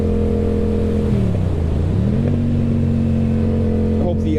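A 2021 Yamaha MT-07 motorcycle ridden at dusk gives a loud, steady engine drone that dips in pitch, then climbs again as it accelerates, with constant wind rush throughout.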